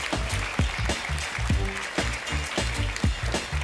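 Studio audience at a Danish open-mic comedy night applauds a comedian taking the stage, dense steady clapping with a few whoops and voices mixed in, loud and sustained throughout.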